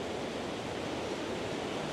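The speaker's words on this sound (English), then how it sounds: "That's some intense waterfall action." Waterfall rapids at Krka National Park in Croatia roar as a steady, dense wash of rushing water, loud and continuous with no voices over it.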